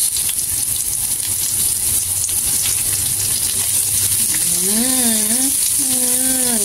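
Onions hit a hot pan with ginger, sizzling loudly in a constant bright hiss for a beef hor fun stir-fry, while a voice speaks near the end.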